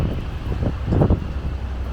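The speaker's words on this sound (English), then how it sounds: "very windy" Wind buffets the microphone on a street in Chelsea, London, as a steady low rumble with a gust swelling in the middle, without speech.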